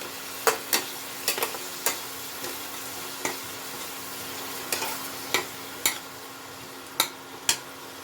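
Ginger and garlic paste sizzling in a pan with onions and chillies, under a steady low frying hiss with a dozen sharp, scattered clicks of a spoon stirring and scraping, close and fairly quiet.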